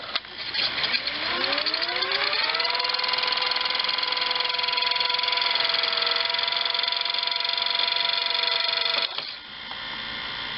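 A GE VG 4056 VCR rewinds its tape: the whine climbs in pitch over about two seconds, then holds a steady high mechanical tone until it stops abruptly near the end, followed by a quieter hum.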